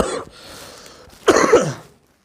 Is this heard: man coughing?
yes